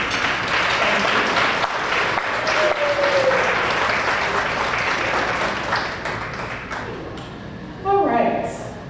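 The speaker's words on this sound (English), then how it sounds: "If you give her a round of applause, please." A crowd at an awards luncheon in Montclair, New Jersey claps in sustained applause that gradually thins out, with a voice briefly audible near the end.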